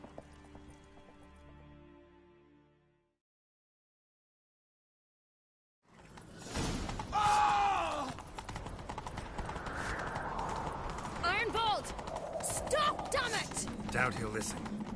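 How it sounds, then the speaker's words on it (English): Horse hooves clip-clop at a gallop in the Witcher 3 video game, rapid rhythmic beats following a brief silence, mixed with game sounds and spoken voices. "Grab a horse, we'll chase him down."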